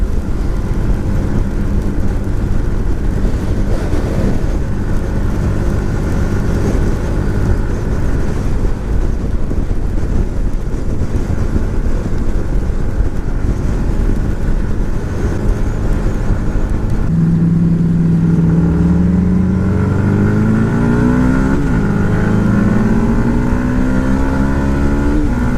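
A 2018 Yamaha MT 125 motorcycle held at full throttle in sixth gear climbing uphill, its engine droning loud and steady under heavy wind rush, with the pitch rising and shifting near the end.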